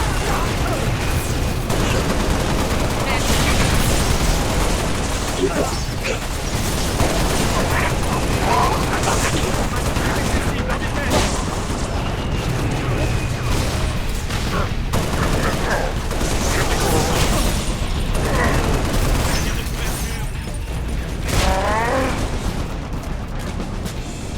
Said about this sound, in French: L'ennemi me tire dessus.